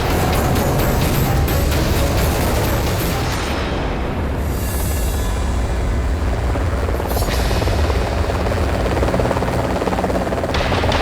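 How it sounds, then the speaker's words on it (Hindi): A helicopter's rotor drones loudly and steadily throughout, a dense low thudding roar that stays close the whole time with no voices. "हेलीकॉप्टर भी आ गया।"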